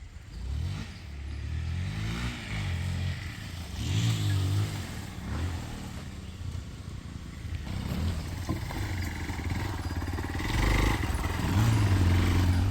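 A 2025 Hero Xpulse 200 4V motorcycle revving during wheelie stunts, its engine rising and falling in repeated surges at a moderate distance outdoors, fairly faint with a steady background hum.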